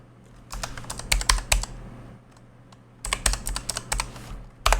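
Keys clatter in two quick bursts of typing on a computer keyboard as a password is entered, close and crisp, with a short pause between bursts and no talking.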